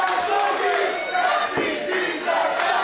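A wrestling crowd in an arena cheers and chants, urging a downed wrestler back to his feet, a loud sustained roar of many voices with rising shouts.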